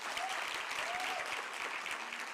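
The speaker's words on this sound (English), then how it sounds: "A big round of applause for her," Audience at a university Women in Media and Communications event applauds steadily, a continuous, moderately distant patter of clapping with a few faint voices underneath.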